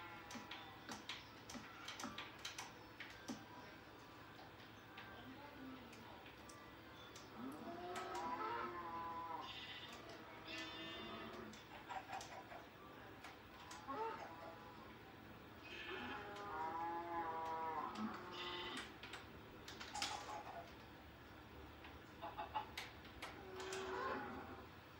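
Minecraft farm animals, cows, sheep and chickens penned together, calling in a scattered run of moos and bleats over a quiet steady ticking background, with no talking.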